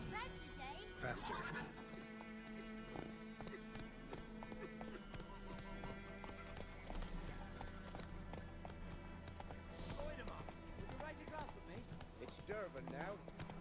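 A horse in The Witcher 3 gallops with rapid, continuous clip-clop hoofbeats and snorting whinnies under game music, while someone speaks briefly over the action.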